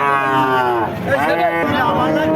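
A cow moos loud and close at a border-area cattle market in Jashore, one drawn-out bellowing call with the market bustle behind it.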